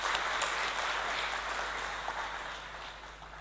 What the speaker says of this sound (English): can we have another round of applause for Ms.